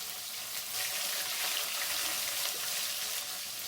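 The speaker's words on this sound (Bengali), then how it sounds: "পেঁয়াজটা একটু ফ্রাই করে নিতে হবে।" Chopped onions fry in a pan over medium heat for a lemon chicken curry, giving a dense, steady close-up sizzle with soft crackling and no voices.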